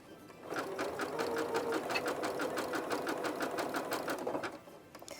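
A sewing machine stitches along the edge of a fabric gift tag in one steady, rapid run of close mechanical clatter that lasts about four seconds and then stops.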